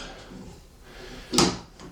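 A drawer in a model railway workshop slides shut with one short, fairly loud knock, heard alone against a quiet room.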